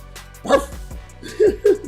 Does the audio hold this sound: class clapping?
no